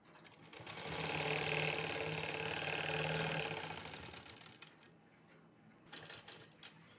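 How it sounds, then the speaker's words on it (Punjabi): A sewing machine stitches cloth in a steady, close whirring run of about three seconds. A few short, quieter bursts of stitching follow, with no talking. "ਇਹ ਕੱਪੜੇ ਤੇ ਆਪਾਂ ਨੇ ਸਿਲਾਈ ਲਗਾ ਲੈਣੀ ਹੈ"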